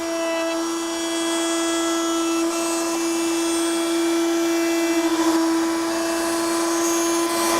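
A router table spinning a roundover bit, cutting a one-inch square wood blank into a dowel, gives a steady high motor whine with a constant pitch that runs loud and close for the whole stretch, with no talk.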